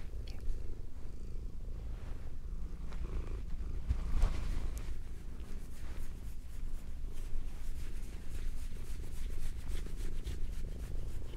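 Domestic cat purring close to the mic in a binaural recording, a steady low rumbling purr running continuously through the whole stretch with faint rubbing texture and no speech.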